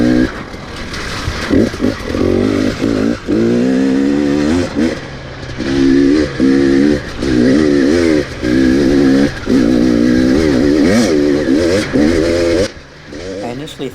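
A 2018 KTM 250 XC-W TPI dirt bike is ridden close by, its engine repeatedly revving up and easing off in rhythmic surges of throttle, loud and continuous throughout, dropping away only briefly near the end.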